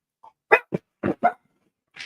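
Several pet dogs bark in a household in short, sharp bursts: a small yip, then four quick barks and one more bark after a pause, all fairly close with no talking.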